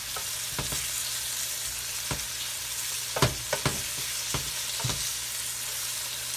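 Chicken pieces frying in a big pan give a steady, close sizzle, broken by several sharp scraping clacks as they are stirred and turned, with no talking.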